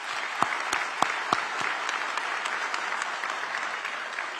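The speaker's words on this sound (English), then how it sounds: "Please join me again in giving them a round of applause to recognize their work." An audience at a police promotional ceremony and academy graduation claps for academy staff, with dense sustained applause filling the room and a few sharp louder claps standing out early.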